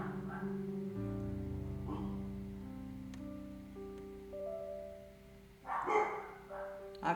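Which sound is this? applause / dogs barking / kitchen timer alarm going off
dogs barking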